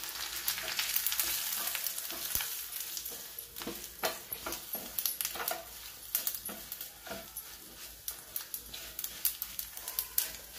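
Tempering spices crackle and sizzle in hot oil for buttermilk rasam, with quick sputtering pops and spoon scrapes against the pan, close and continuous throughout.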